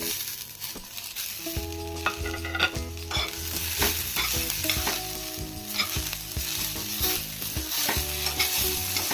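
Grated coconut and tomato fry together in a pan for a spiced brinjal curry, a steady close sizzle with stirring scrapes, heard under prominent background music.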